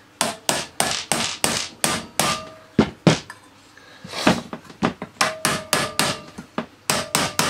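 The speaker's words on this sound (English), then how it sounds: "Always hammer the back of the motor, not the fan case." A hammer strikes the back of the motor on a 1996 Numatic Henry HVR200 vacuum, delivering loud, close, sharp knocks in a steady rhythm with a few brief pauses between bursts.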